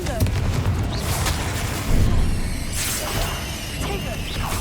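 A Confringo fire spell bursts during a spell-casting battle in Hogwarts Legacy, a loud booming blast rising out of dense, continuous combat noise with a sharper surge about two seconds in.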